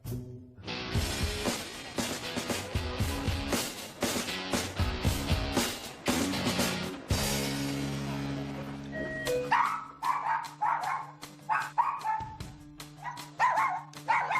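A dog barks in a quick run of sharp, loud woofs, then yips and whimpers more intermittently over a steady low hum, with no talk.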